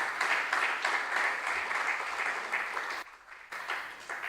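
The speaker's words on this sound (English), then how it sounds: "Let's give them a big round of applause." An audience at a junior science and maths quiz regional qualifier in the Ashanti Region applauds the contestants with a sustained, fairly loud roll of clapping that briefly drops out near the end before resuming.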